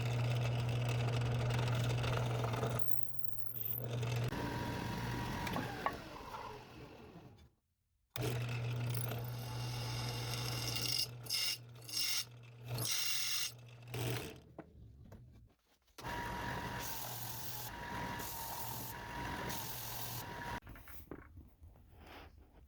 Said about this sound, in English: We got our hole drilled through the steel.